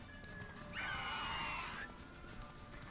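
A horse in the video game Witcher 3 gives a clear, high whinny lasting about a second over steady clip-clop hoofbeats and background game noise, fairly quiet overall.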